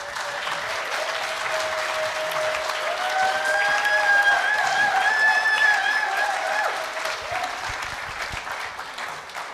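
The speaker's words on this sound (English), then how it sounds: "can we get one more round of applause for all the readers that read?" Church congregation applauding readers at a South Church service in Amherst, with steady, full clapping throughout, a few whoops and high voices briefly rising above it in the middle.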